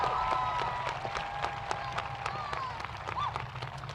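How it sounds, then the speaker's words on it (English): Graduation audience applauding the top 10 graduates of the class of 2026 at a high school ceremony, a steady patter of clapping with scattered distinct claps, accompanied by a faint sustained tone. "Once again, a round of applause and congratulations to our top 10 graduates for the class of"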